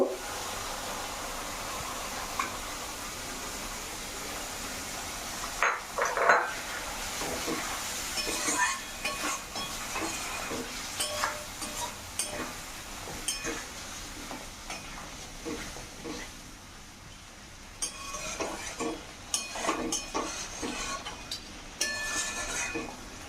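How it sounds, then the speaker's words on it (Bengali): Paneer cubes being stirred into a cooked-down spice masala for doi paneer in a home pan, with soft scraping and clinks of a spoon over a low, steady sizzle. "মশলাটা কষানো হয়েছে ভালোভাবে মিশে গেছে এখন পনিরটা দিয়ে দিব"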